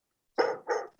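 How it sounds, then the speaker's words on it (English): Two short barks from a dog in the background, back to back within one second, moderately loud and alone against silence. "You might hear some dogs in the background here."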